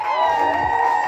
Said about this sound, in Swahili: Vigelegele na makofi kwa Bwana Yesu.